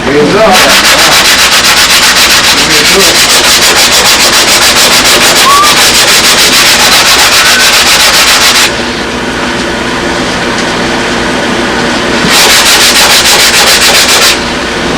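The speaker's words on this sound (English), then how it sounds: "What also you can do is you can actually sand it a little early and the dust will make it go off in the cracks." Close, continuous back-and-forth sanding strokes on the edge of a foam model airplane at a fly-in demo day, loud and steady, briefly softening before resuming near the end.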